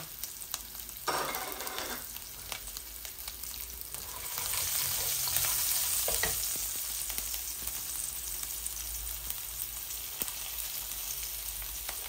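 Four or five garlic cloves frying in hot oil for a fish-head, potato and tomato curry: a steady close sizzle that swells louder midway, with light stirring scrapes and no talk.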